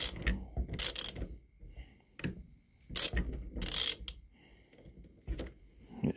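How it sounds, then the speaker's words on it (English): Half-inch drive ratchet with a 10 mm socket backing out a stuck breech plug on a Thompson Center muzzleloader, loud clicking ratchet bursts in several separate strokes with short quiet pauses between, close by. "I just put a 10 millimeter with a big half inch drive, and she's coming on out now"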